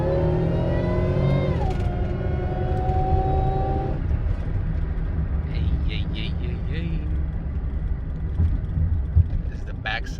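A 2000 Buick Regal GS with a stage two ZZP tune drives on a road, its engine winding up in pitch and then dropping as it shifts, then settling into a steady cruising hum while people talk inside the car.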